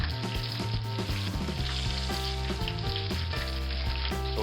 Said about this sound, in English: put it right down in my oil to fry